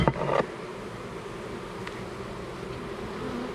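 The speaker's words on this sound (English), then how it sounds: "Pump up these bees, especially these little starter hives." Honey bees drone steadily around a small starter hive, giving a close continuous buzz with a brief knock at the start.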